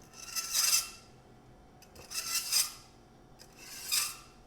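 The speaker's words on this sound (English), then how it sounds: "when you wind up taking the knife and you draw it right through, you have a really nice 20-degree angle" Three separate rasping strokes of a knife drawn through a diamond pull-through sharpener, each a short gritty scrape with a light metallic edge, evenly spaced and close, with quiet pauses between them.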